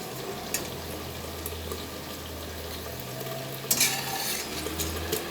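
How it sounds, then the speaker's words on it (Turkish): Continuous crackling sizzle of thin potato slices frying in hot oil, with occasional clinks and stirring scrapes and a low steady hum underneath. "Arkadaşlar bu şekilde patatesimi kızarttım ince dilim şeklinde."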